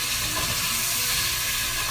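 Chicken frying in a pan with turmeric, dried and fresh chopped coriander and other ingredients for red chicken tashreeb, a steady close sizzle and hiss throughout.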